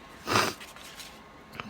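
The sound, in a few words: sniffles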